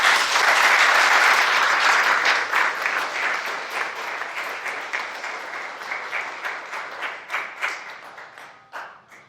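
A church congregation bursts into loud, dense applause that holds steady for several seconds, then thins out into scattered individual claps as it fades.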